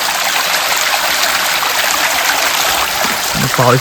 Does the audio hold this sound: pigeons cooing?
no